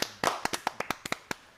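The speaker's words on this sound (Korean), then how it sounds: "그래도 박수 한번 치고." A short burst of clapping from a few people at a Korean-language talk, about ten sharp claps in an uneven rhythm, close and fading quickly.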